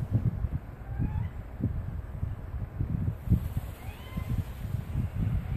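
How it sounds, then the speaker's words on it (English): A house cat crying in the background, producing repeated low, muffled meows spread across the stretch, faint and somewhat distant against a steady room hum, with no talking. "that's my cat crying in the background"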